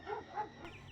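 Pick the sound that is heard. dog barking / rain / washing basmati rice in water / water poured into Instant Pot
dog barking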